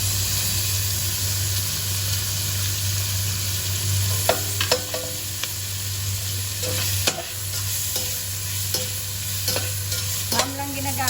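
Ham frying in a pan for carbonara, with a continuous close sizzle, a steady low hum underneath and repeated sharp scraping clicks of a utensil stirring, alone without speech.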